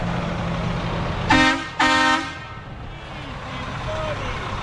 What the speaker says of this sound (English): That truck has the loudest horn, I think, out of any truck that I've ever heard.